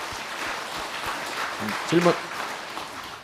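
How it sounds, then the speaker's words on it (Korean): Audience applause at a monk's dharma talk and Q&A session, a steady broadband patter of clapping that runs the whole stretch, with a voice briefly speaking over it. "자, 박수."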